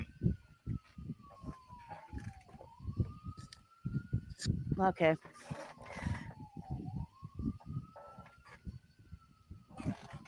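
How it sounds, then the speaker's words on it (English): A city siren wails up and down continuously in the distance, rising and falling twice, while someone talks over it nearby. "Trying to decide if the sirens are coming from outside of Slim's house or mine."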